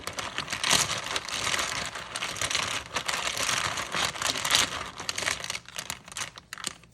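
Tarot cards being shuffled, a dense, continuous run of crisp riffling and papery flicks with rapid irregular bursts, close and fairly loud, with no talking.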